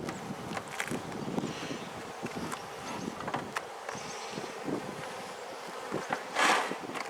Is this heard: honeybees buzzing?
yes